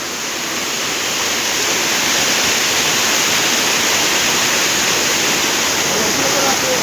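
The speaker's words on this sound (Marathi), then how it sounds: "असा धबधबा आहे बघा भावानं" A waterfall in the Konkan region roars as a dense, steady rush of falling water that swells slightly at the start and then holds loud and constant throughout.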